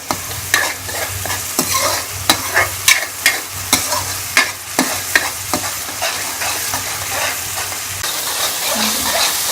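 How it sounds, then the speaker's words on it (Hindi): Garlic and onion sizzle in a hot pan while a spoon stirs and scrapes in a quick series of clatters, the frying hiss continuing steadily throughout. "3 से 4 मिनट अच्छी तरह से लहसुन को प्याज के साथ भून लेंगे"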